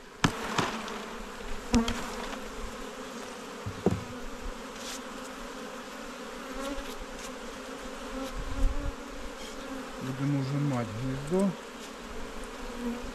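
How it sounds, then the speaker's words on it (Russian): Italian Cordovan honey bees shaken off a hive frame, a soft steady buzzing hum with scattered knocks and handling thumps, and a louder buzzing swell near the end. "Все, друзья стряхуємо цю пчелу."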